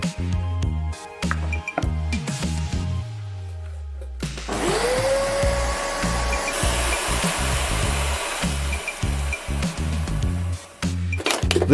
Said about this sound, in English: If your vacuum cleaner doesn't come with a crevice tool, you can make one yourself from the top of a plastic bottle.